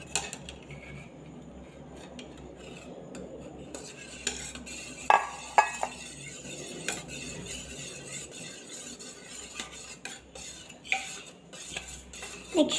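A spoon clinks and scrapes in a bowl while sweet, crispy evening-snack ingredients are mixed, the taps irregular and close, over a quiet background.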